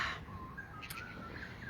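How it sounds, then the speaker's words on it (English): A kookaburra calls faintly in the distance from outdoor bushland, its harsh, scattered notes barely rising above a steady background hiss. "there's a kookaburra now"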